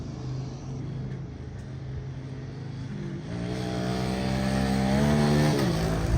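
Cars roll past outside a garage, their engine noise rising and building as they pass close by, with no talk over it.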